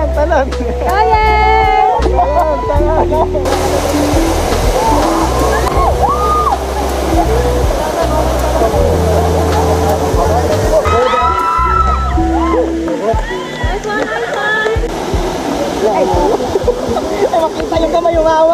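Rushing, splashing water from a waterfall in Siquijor, loud and steady throughout, with people talking and shouting over it and occasional sharper splashes.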